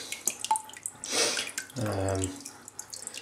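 Wine grape juice dripping through a fine sieve: quiet, close drips and a short watery trickle that swells briefly, then fades back to scattered drops.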